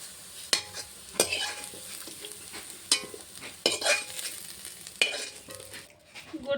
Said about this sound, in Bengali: পনিরের জন্য আলু ভাজাটা হয়ে গেছে নামিয়ে নিচ্ছি ভাজতে ভাজতে গলে গেছে